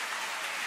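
A short burst of audience applause at a live event, steady clapping from a crowd with no voices over it.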